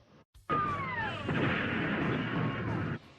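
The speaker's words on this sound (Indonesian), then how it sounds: "Setelah mobil itu jalan, mobil itu meledak seketika." A loud, sustained car explosion roar erupts suddenly and rumbles for a few seconds before cutting off, with a descending whine at its start, from an action film.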